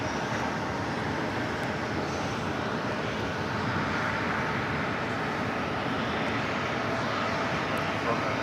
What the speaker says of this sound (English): That JetBlue A220-300 heading to Chicago O'Hare, flight 905.